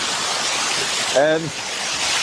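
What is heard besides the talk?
waterfall roaring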